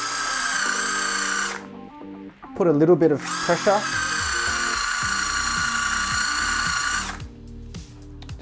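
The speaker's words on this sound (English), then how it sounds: "All right, now we get the drill" A power drill spins a polishing disc to buff scratches from a disc. It gives a high, steady whirr in two long runs, separated by a short pause where someone speaks, and he talks briefly over it.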